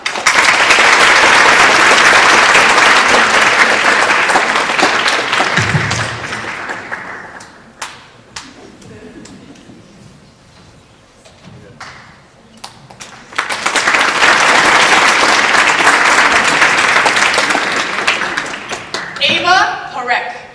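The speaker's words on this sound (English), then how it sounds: "let's give them a round of applause so they can receive their medal" Audience at a speech competition final applauding medal recipients: a long, loud round of clapping fades into a quieter stretch with talking, then a second full burst of applause rises and tapers off near the end.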